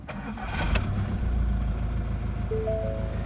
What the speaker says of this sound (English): When I start this engine up